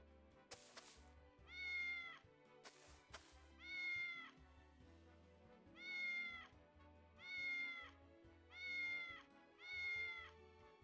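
A cat meows repeatedly in the VR game Triangle Strategy, six drawn-out, evenly spaced meows over soft background game sounds, with a couple of short bright clicks early on.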